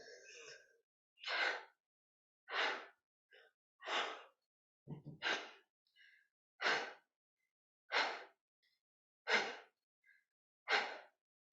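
Kapalabhati pranayama yoga breathing: a steady series of about nine sharp, forceful exhales through the nose, evenly spaced a little over a second apart, close and clear with silence between them.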